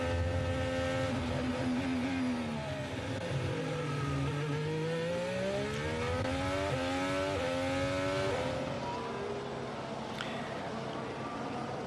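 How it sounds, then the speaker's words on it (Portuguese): Formula 1 cars lapping the Bahrain circuit during Grand Prix practice in 2024, engines whining loudly with rising and falling pitch sweeps as cars pass, a continuous high-revving roar throughout with a commentator's voice faintly underneath. "Estão na pista nesse momento o Sargent, o Alonso e os 2 carros da Alpine,"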